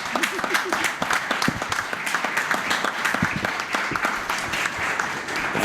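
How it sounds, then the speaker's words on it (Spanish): Applause from the audience at a live performance in a restaurant in Campo Criptana, a dense, sustained clapping of many hands that holds steady throughout. "Un aplauso, por favor."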